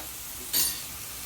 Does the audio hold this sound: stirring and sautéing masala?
yes